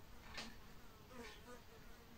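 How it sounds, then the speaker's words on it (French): A bee buzzes close by indoors, its hum rising and falling as it circles and loops near the listener, with no speech over it. "Mais c'était une abeille."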